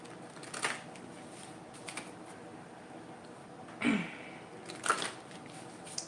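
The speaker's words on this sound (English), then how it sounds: "So I'm shuffling." Tarot deck being shuffled by hand, a few short papery riffles and card taps spaced apart against a quiet room background, close to the listener.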